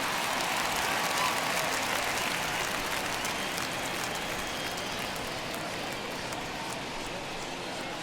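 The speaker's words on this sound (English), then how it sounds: "I can hear the crowd murmuring now, wondering if he hit him on purpose" Baseball stadium crowd murmuring during a Mets versus Nationals game, a dense, steady wash of many distant voices filling the whole stretch without clear individual words.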